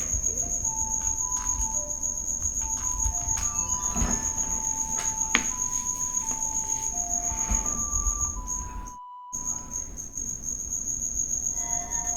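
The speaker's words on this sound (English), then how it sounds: "The cricket sound like he's finally getting tired." A cricket chirps indoors in a continuous high, steady trill, fairly loud and close, running nearly throughout with a brief dropout near the end and no speech.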